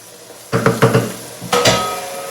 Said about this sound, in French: On touille un petit peu.